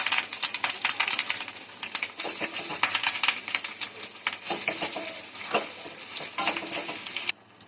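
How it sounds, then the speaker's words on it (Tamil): Chopped onions sautéing in a hot pan for wheat dosa batter, with curry leaves nearby. A steady crackling sizzle runs throughout, broken by frequent sharp clicks and scrapes from stirring. "வெங்காயம் நல்லா வதங்கட்டும்"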